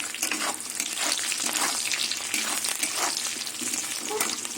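Steady loud sizzling and crackling of mushrooms and peanuts frying in a pan, continuous throughout with occasional stirring scrapes.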